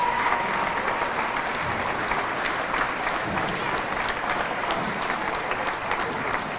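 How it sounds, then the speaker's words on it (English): Audience at a high school boys basketball senior night claps in a sustained, even round of applause from a crowd, with a voice faintly over it. "Let's give a round of applause to each of our seniors and their families."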